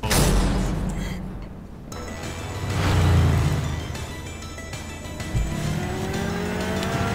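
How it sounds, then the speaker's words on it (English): Loud motorcycle engines roar and rev continuously in an animated Link vs Cloud fight, with pitch sweeping up and down as the motorcycles accelerate and pass close by. "They start on their motorcycles."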